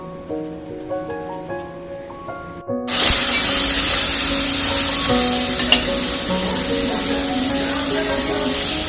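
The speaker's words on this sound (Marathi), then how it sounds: "आता बघा तेल टाकलेलं आहे" Oil for a chicken dish hits a hot pan after soft background music, bursting into a loud, close sizzle that hisses on steadily with occasional crackles.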